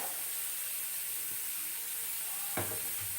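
Tempering spices hit a spoonful of hot oil in a pan for a simple yogurt dish, giving a faint, steady sizzling hiss with a brief clink of utensils near the end.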